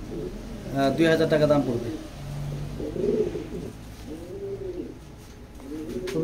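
Pigeons in a pigeon loft giving soft, repeated throaty coos in short rounded phrases, close by, under someone talking.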